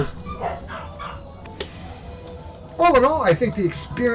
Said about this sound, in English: You can hear some dogs behind me.